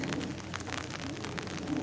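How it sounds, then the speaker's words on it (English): Rain falling on an April afternoon in a garden, a soft steady patter and hiss at moderate distance with faint drips and no voices. "and it's raining"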